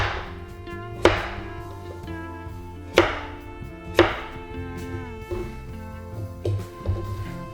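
A knife chops potatoes into pieces on a cutting board for mashed potatoes, giving sharp, close thuds spaced irregularly about a second apart with a faint ringing between cuts.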